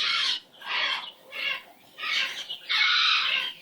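Pet bird giving a series of loud, harsh squawks, five raspy calls in a row, close to the listener with brief gaps between them.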